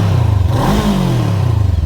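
Loncin Voge 500DS 500cc twin motorcycle engine revved once at a standstill, a sharp rising blip that falls back to a lumpy, pulsing idle, close and loud.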